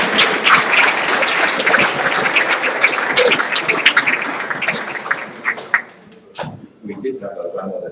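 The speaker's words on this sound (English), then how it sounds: "We did have a round of applause." Lively applause and cheering rise from the audience at a school awards ceremony, many hands clapping loudly for several seconds before thinning out into scattered claps and voices.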